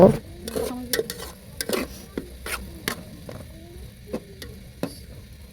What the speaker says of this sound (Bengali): এখন আমরা ভেজিটেবলগুলোকে সামান্য ঘি লবণ গোলমরিচ গুঁড়া আর আদা রসুন পাতা দিয়ে কিছুক্ষণ বেজে নিব